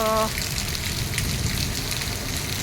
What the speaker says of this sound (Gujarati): ઉનાળામાં પણ આટલો બધો સરસ વરસાદ આવે છે એકદમ જોઈ શકો છો